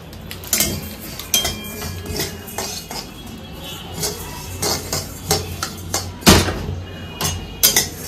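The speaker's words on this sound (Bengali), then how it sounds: "ঠাকুরের বাসন মাজবো" Metal pots and utensils for a household shrine scrubbed and handled in a kitchen, with repeated clinks and scraping clatter at an uneven pace, close and fairly loud, and no talking.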